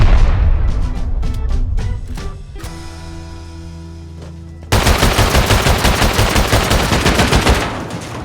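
AK rifle fire in a video game: rapid shots at the start, a lull with a ringing tone, then a long, loud, steady automatic burst with no talk.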